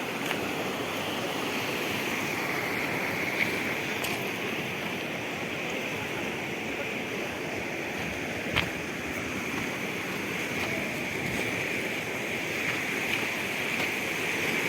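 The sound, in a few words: stream water flowing at a mountain spot in Kyrgyzstan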